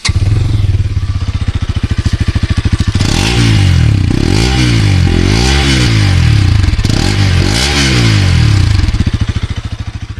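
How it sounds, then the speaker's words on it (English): A Pulsar NS 200 motorcycle engine idles with a rapid, throbbing exhaust note, then revs up and down repeatedly. It is loud and close, with no one talking. "this is the damn good exhaust note that you'll ever listen in a 200cc bike"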